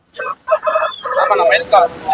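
A rooster crows loudly and close at a goat and poultry market, one long broken crow lasting about two seconds.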